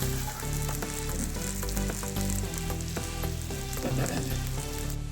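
Chopped onion and green chilli sautéing over a low flame, a steady close sizzle under a constant tonal hum, with no one speaking.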